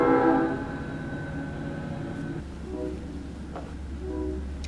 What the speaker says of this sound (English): And then the monorail.